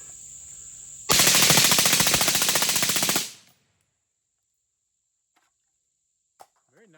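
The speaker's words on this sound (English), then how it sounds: "Might as well go another one full rip, right?" A rifle fitted with a Hoffman trigger kicker fires a sustained rapid burst of about two seconds, loud and close. The burst stops sharply and is followed by near silence with a couple of faint clicks.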